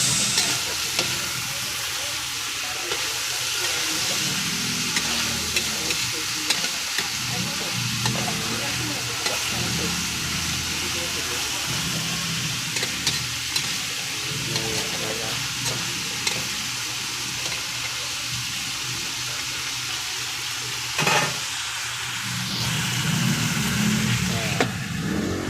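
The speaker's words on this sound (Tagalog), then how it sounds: "Prito muna natin yung wings natin" Chicken wings sizzle steadily in hot oil in a pan for adobo, a continuous crackling fry with occasional stirring clatter and a few quiet voices in the background.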